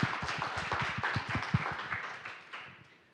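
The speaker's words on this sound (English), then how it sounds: "can you please give them all one more round of applause" Audience applause at a conference session on lab-to-market ventures: a brief burst of dense, close clapping that thins out and fades over about three seconds.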